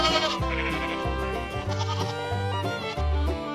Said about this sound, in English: Goats are great climbers.